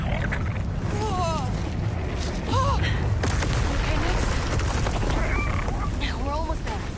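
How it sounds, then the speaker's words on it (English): Khepi tomb blowing apart in Star Wars Outlaws, A Pirate's Fortune DLC: a continuous loud roar of rumbling blasts and crashing debris, with brief honking, chirping calls cutting through now and then. "The whole place, the whole Khepi tomb is exploding."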